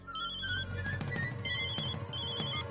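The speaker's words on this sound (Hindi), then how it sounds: "अंकुश देखो किसका फोन है" A telephone ringing indoors in an animated comedy, a bright electronic ringtone of repeated high tonal bursts with short gaps, loud and close, no talking.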